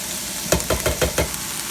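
Generic canned chickpeas dumped into a hot pan on medium heat with leftover turkey grease, giving a steady sizzle broken by a quick series of scraping stirs or taps.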